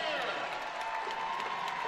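Stadium crowd at an evening women's soccer match between Seattle Reign FC and Washington Spirit, heard as a brief, steady wash of distant murmur and cheering with no clear individual voices.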